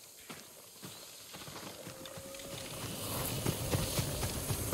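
A farm horse's hooves clip-clopping at a stable in the video game Ghost of Tsushima, a steady walking rhythm close by over a busy ambient background, with no talking.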